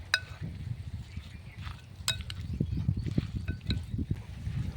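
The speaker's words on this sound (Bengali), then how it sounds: "এরপর ভালো করে চামচ দিয়ে আমি মাখিয়ে নিচ্ছি।" A spoon mixes raw mango pickle with mustard oil, with soft, close, irregular scraping and squelching strokes and a few sharp clinks against the bowl. No one speaks.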